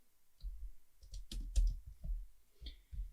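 Keystrokes on a computer keyboard as tool specifications such as cutting diameter, length of cut and corner radius for an end mill are entered into a form: scattered soft clicks in small bursts, close and fairly quiet, with no voice.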